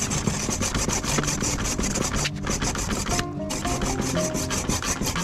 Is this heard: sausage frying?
no